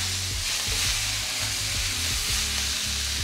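Brussels sprouts sizzle steadily in a hot pan as they are stirred, a constant close frying hiss with soft scraping knocks from the stirring underneath.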